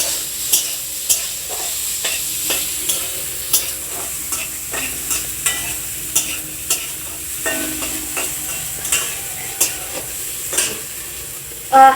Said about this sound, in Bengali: এখন সয়াবিনগুলো আমি তেলে ভেজে নিচ্ছি